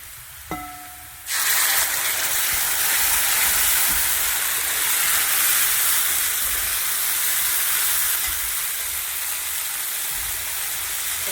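After a brief click, a paste of ground garlic, green chilli, poppy seed and tomato hits hot fried onions and breaks into a loud, steady sizzle that hisses on without pause.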